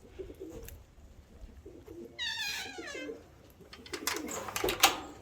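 Young pigeons coo in a short rolling burst midway, with softer bird calls and rustling around it, close by and otherwise quiet.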